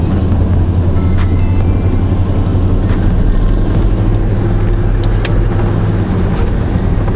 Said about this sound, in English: I know these tires are supposed to be super loud, and I really wanted to see how loud they are for myself.